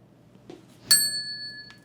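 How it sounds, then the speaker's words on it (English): A single bright ding from the bell in the Math Room board game by SimplyFun, struck once and left to ring out with a clear sustained tone. "Quickly ring the bell"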